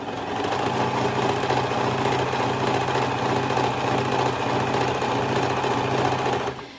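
A sewing machine stitches stretchy ruffle fabric for V-shaped bikini bottoms, its motor whirring in a steady, close, continuous run with a fine rapid needle rattle, stopping at the very end.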